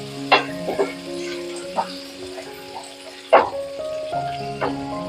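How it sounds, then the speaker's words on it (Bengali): Chopped tomato and onion fry in a pan with a soft sizzle, broken by several distinct spoon clinks and scrapes against the pan spread across the clip. "টমেটোটা পেঁয়াজের সঙ্গে ভেজে নেব"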